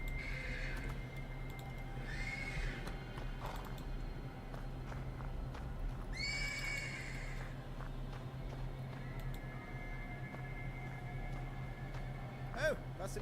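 Horse in the video game Black Book whinnying near the stables, several drawn-out neighs over a steady low ambient hum.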